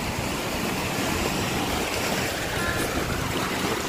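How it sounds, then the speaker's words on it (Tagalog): Water flowing in a small stream, a steady broadband rushing wash heard alone at moderate distance without pauses. "May tubig dito, galing siguro sa galing sa sapa."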